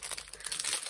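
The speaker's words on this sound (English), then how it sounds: "Sorry about the rustling." Brief, close crinkling of crafted paper, a quick burst of rustles and crackles lasting under a second.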